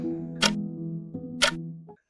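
Two crisp ticks about a second apart over a low steady hum, then quiet.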